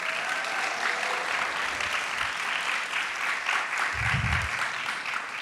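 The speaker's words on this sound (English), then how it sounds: "Let's give a big round of applause to Jorge Rivas." An audience applauds at an awards ceremony for immigrant leadership in San Francisco, steady dense clapping filling the whole stretch with a few low thumps near the end.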